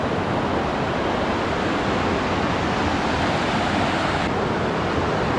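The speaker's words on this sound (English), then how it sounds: "crossing the Guinea Brook, ice cold water, holy cow." Ice-cold water of Guinea Brook on the Appalachian Trail rushing loudly and continuously around a hiker wading knee-deep, a close, broadband roar with no talk.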